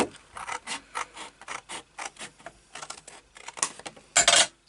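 Card being cut with a paper trimmer while making a file box, a close series of short scraping, rasping strokes in an uneven rhythm, ending with a louder final slice.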